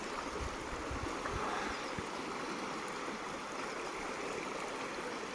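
River water pours steadily below the Girna dam, which is filled to capacity, making a continuous broad rushing roar with no pauses and no voices.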